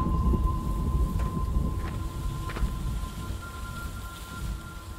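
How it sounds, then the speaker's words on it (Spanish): Rain falls steadily in a horror farm video game's thunderstorm night, with low rumbling thunder and a soft continuous tonal drone underneath, gradually quieting. "Noche de tormenta."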